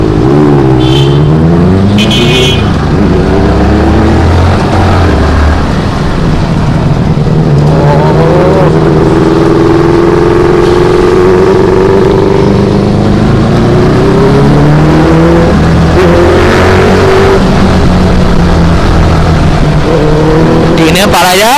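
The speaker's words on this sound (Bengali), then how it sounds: "বেনেলি 600i এর এসসি প্রজেক্টার ডুয়েল এক্সস্ট লাগানো আছে" A Benelli 600i superbike fitted with an SC Project dual exhaust revs loud and close, its engine note rising and falling in long sweeps under occasional speech.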